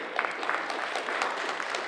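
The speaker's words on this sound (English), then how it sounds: "Big round of applause for Meghna, please." Audience applause for a woman at a community conference committee kickoff, a short burst of moderately loud clapping from a mid-sized crowd, steady across two seconds.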